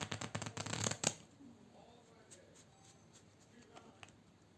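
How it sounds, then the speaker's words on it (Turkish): A deck of playing cards riffled and shuffled up close for a card trick, a dense crisp flutter for about a second ending in a snap, then quiet with soft handling and someone talking. "Şimdi şöyle bir karıştıralım biraz."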